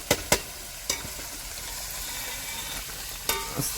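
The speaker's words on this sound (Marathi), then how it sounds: "आपण मस्त पैकी कांदा, मिरच्या सगळं तेलात एकदम लाल जरीत करून घेतोय" Onion and green chilies fry in hot oil in a pan, giving a steady broadband sizzle with a few sharp clicks and clatters of a spoon stirring, close and moderately quiet, with no talking.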